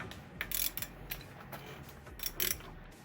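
A ratchet wrench tightens a CV axle nut on a car during axle replacement. Short bursts of clicking ratchet strokes come up close and fairly quiet, with pauses between pulls.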